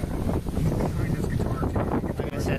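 Wind blows steadily across a microphone aboard a heeling sailboat on the Irish Sea, a loud, constant rushing buffet with gusty swells, and faint voices now and then beneath it.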